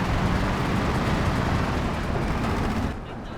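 Firefly tank blasting a Panther in Company of Heroes 2, a loud dense rumble of cannon fire and battle explosions that drops off sharply near the end.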